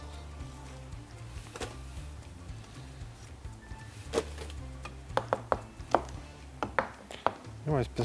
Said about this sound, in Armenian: հնարավորինս բարակ կտրատում ենք մեր պղպեղները, որպեսզի ստանան նույն տեսքի, ինչպես մեր պաստան է լինելու